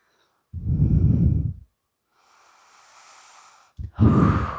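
Heavy breathing during an active pigeon pose in a yoga flow for hips and legs: a long, close, noisy exhale, then a quieter airy stretch and a second strong breath starting near the end, with no talking.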